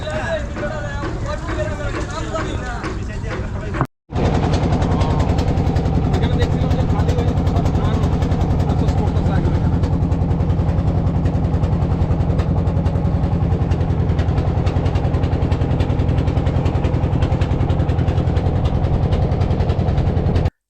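A motorboat engine runs steadily on a boat crossing floodwater in the Mithamoin–Austagram area, a loud continuous drone after a brief cutout near the start, with voices faintly mixed in.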